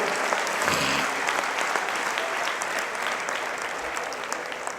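Loud, sustained applause from a large audience at a religious community conference, a dense even roar of clapping that continues for the whole stretch.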